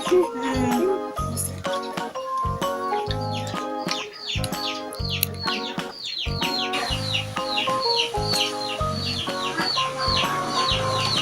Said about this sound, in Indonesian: ya kalau ini maaf ya kalau ada suara ayam